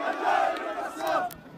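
A crowd gathered for a hostage exchange in Israel and Palestine lets out loud mingled shouts and cries, with voices rising and falling in short surges.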